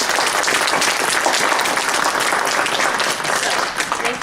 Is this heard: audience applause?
yes